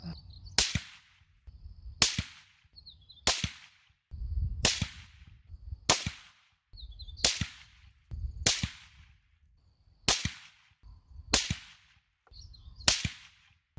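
A series of eleven sharp, loud rifle shots in .22 ARC from an 18-inch Ballistic Advantage barrel during load testing, spaced roughly every second and a bit, each crack followed by a brief rumble, with no talking.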